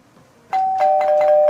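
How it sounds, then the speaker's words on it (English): A doorbell rings out with a sustained electronic chime tone, struck once and then repeated in a quick run of pulses, loud and close over a quiet room. "Ring the doorbell."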